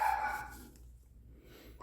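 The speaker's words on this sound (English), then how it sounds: "Sorry if you can hear my dog in the background." A pet dog barks a few times at the start, fairly close but not loud, then the room goes quiet with only low background hum.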